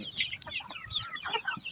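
Chickens of various sizes cluck and chatter on a farmhouse poultry farm, a steady overlapping mix of short calls at moderate distance with no talking.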